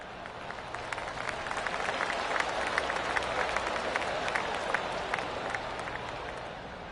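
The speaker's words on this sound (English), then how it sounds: "I can hear the golf claps around the course" Golf claps ripple from a gallery around the course in PGA Tour 2K25, a dense, steady patter of many hands that holds at moderate volume for several seconds.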